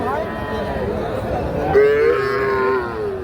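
Cattle moo loudly nearby at a livestock market selling young bulls and heifer calves, a long drawn-out low call rising over the steady chatter and murmur of the crowded outdoor market.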